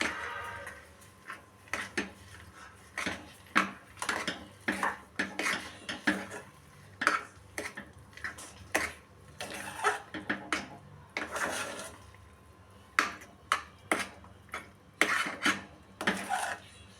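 A spoon scrapes and clatters around a pan as sugar is stirred into kesari, giving irregular metallic strokes in bursts over a low background, close by, with no voices.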